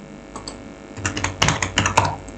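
Fingers type a one-time passcode on a computer keyboard, a short run of about a dozen crisp, close keystrokes after a quiet moment.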